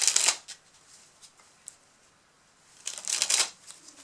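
A deck of playing cards is dribbled from hand to hand, giving two bursts of rapid fluttering card riffles, one at the start and one near the end, with a few soft handling taps in between.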